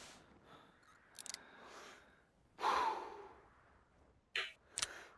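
Bison snorting in theHunter 2016, a loud breathy snort in the middle of quiet ambience, with a few short clicks around it and no talking.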